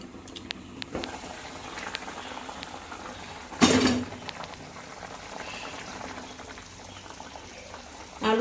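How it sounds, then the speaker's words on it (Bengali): Potatoes boil in water inside a covered pot, giving a steady low bubbling simmer throughout, with a brief louder burst of clatter or splash partway through. "এই আলুটা একটু সিদ্ধ হোক, তো এটা এখন"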